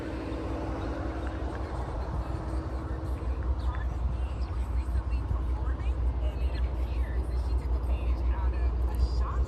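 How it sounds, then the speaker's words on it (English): A 2005 Cadillac with a Northstar engine that is misfiring and running hot, idling with the air conditioning on; a loud, steady low rumble fills the whole stretch, up close with no pauses. "I've been letting this Cadillac run for an hour now"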